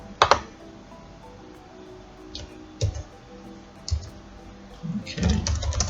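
Typing on a computer keyboard, close and sparse, a handful of separate key clicks spread over a few seconds, ending in a quick burst of keystrokes.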